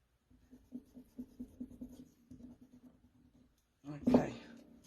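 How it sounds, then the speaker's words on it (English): Close, rhythmic scrubbing strokes of an eraser rubbing out pencil lines on a card come in quick repeated bursts, then give way to a louder, brief rustle near the end. "I'll just rub these pencil lines out on my card first"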